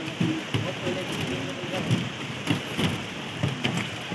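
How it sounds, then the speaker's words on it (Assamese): Heavy rain pours down on a bridge over a river, a thick continuous patter with louder drop impacts scattered throughout, while a person talks close by over it. "বৰ বেয়া বৰষুণ দিছে বে"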